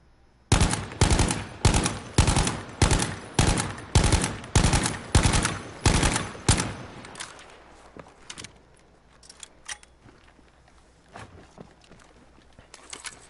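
Automatic weapon fire in Battlefield 5, a rapid volley of about a dozen loud, evenly spaced bursts over six seconds, then quieter scattered clicks and small impacts trailing off.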